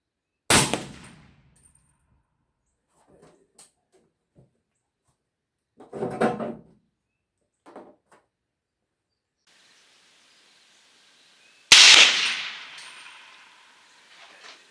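A .308 FMJ rifle round strikes a solid steel Masterlock padlock at close range: sharp loud shots with ringing metallic impacts, spaced apart with quieter clinks between and a final bright crack trailing into a decaying ring.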